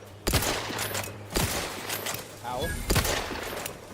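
Gunfire from The Outer Worlds 2 video game, several sharp bursts spaced about a second apart over a low hum, with a short spoken exclamation in between.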